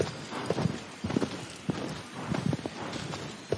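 A horse's hooves thud and clop at an uneven walking pace in the PS4 game Shadow of the Colossus, close and fairly loud, with a few brief pauses between steps.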